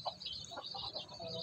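Native cross Brahma chickens in a small backyard flock cluck softly and irregularly at a distance, a low, faint murmur of short calls with no talking over them.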